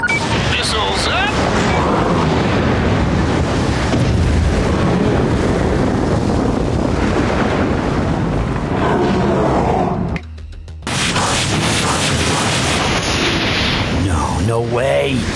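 Missile explosions in a Spider-Man versus Cole MacGrath battle make a loud, continuous roaring blast that fills the clip, briefly cut off near the middle before resuming, with voices talking underneath.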